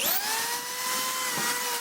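A Senco cordless drywall screwdriver whirs steadily at high speed, a sustained motor whine with a slight pitch drift as it drives a screw, loud and close, with no talking.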